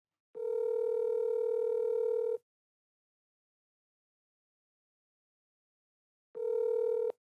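A phone call rings out unanswered: two long electronic ring tones separated by a stretch of silence, clear and steady with nothing else audible.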